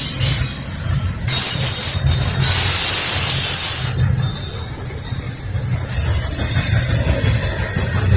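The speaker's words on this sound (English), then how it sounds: "that train's really going" A westbound Norfolk Southern train rolls by at speed, with steady low rumble of wagons and sharp high wheel squeal rising loud and close, then easing into a continuous clatter.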